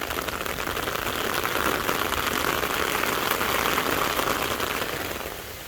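Steady rain falls outdoors over a property with earthworks and a pond, a continuous even hiss of drops at constant loudness with no talk.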